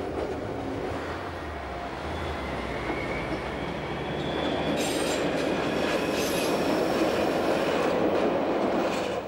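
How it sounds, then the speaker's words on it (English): Appenzell Railways BDe 4/4 rail car running on track toward Wasserauen, a steady loud rumble of wheels and motor with faint squealing, heard from inside the car throughout. "making our journey to Wasserauen in one of the latest BDE44 rail cars"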